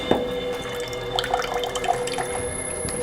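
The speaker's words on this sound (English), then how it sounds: "This is our cold water pressure in the kitchen." Cold water running from a kitchen faucet at full pressure, a steady close hiss and splash with bright dripping plinks over the stream, and no one talking.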